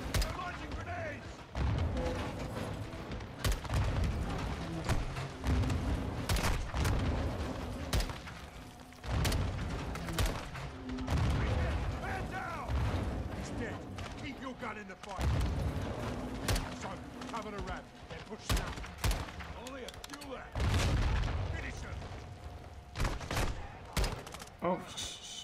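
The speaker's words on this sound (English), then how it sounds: "Incoming! Take cover! They're launching grenades!" Grenade blasts and bursts of gunfire from a Call of Duty Modern Warfare 2 campaign battle, with repeated heavy booms and rattling fire that come in waves under shouted voices and a player talking.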